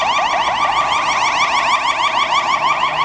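A loud, continuous siren from an ambulance on a Warsaw street, wailing in rapid, repeating up-and-down sweeps, close by and steady throughout with no voices over it.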